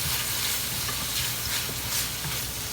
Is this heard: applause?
no